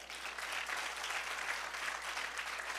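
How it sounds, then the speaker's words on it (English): A crowd claps steadily in a dense, even patter of applause, sustained throughout with no voices standing out. "A round of applause for that."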